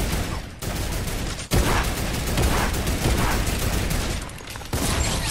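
Sustained turret gunfire in Fortnite, a dense, loud stream of rapid shots running nearly the whole time, broken by a couple of brief gaps.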